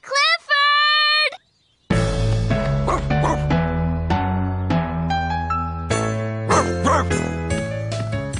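A cartoon dog gives a long, high whimpering bark, then after a brief silence several yipping barks ring out over bright, bouncy music and jingling.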